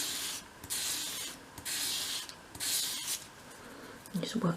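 Sandpaper sweeps along the bevel of a tiny 1/12 scale candle lantern part, a quiet rhythmic scratchy hiss in about five short strokes, followed by faint handling noise at the end.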